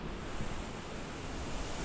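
A river waterfall roars as a steady, loud broadband rush of falling water, constant and close throughout with no voices over it.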